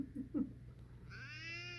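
A cat gives a drawn-out meow with a rising, whining tone, close by and fairly soft, after a couple of brief chirpy sounds.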